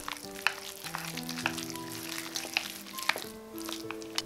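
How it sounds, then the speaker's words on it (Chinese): Wonton meat filling is mixed with seasoning and water, wet squishy stirring and soft taps against the bowl repeating close up, with faint background music underneath and no talking. "把调料慢慢的搅到肉里面。"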